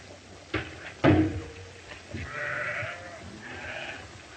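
Sheep bleat in wavering cries at a moderate distance after a couple of sharp knocks, with a second bleat trailing off near the end.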